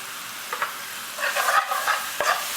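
Pre-cooked dhal being stirred into a sizzling pan for a restaurant-style mushroom dansak, a short burst of close frying hiss with a few scraping strokes.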